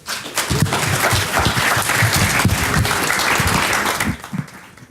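Applause from a PyCon lightning-talk audience greets the next speaker, with individual claps audible in a steady patter that fades out near the end.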